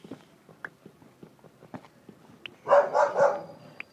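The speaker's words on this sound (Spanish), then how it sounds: "Mi perra está ladrando." A dog barks in a game setting, a cluster of about three close, fairly loud barks near the end, preceded by faint scattered taps and footstep-like clicks, no talking.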